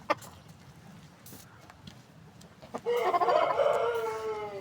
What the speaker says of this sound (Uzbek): Shamollagan xo'rozga qo'l qilish jarayoni mana